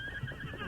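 Horse whinnying in an old Western radio drama, a short, fairly faint neigh heard alone without speech.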